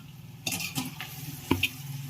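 A spoon stirs Telangana-style country chicken curry with ground coriander and cardamom-clove powder in a pot, giving a few soft scraping strokes over a low sizzle, close and faint.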